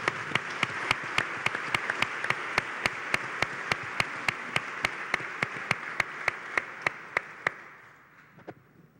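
At the closing session of the III Congreso del Futuro, an audience applauds Juan. Steady clapping is punctuated by evenly spaced, sharp beats, then fades out over the last second.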